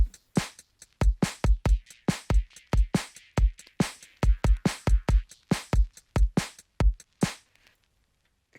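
A drum beat in Ableton passes through an EQ8 high-pass filter, leaving thin, clicky hits with little low end in a steady, even rhythm that stops cleanly near the end.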